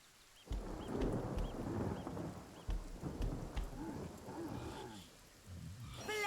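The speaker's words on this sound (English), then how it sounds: "Thunderstorm!" A thunderstorm in the video game Divinity: Original Sin: steady heavy rain with rolling thunder rumbles throughout, and a sharp crackling thunderclap near the end.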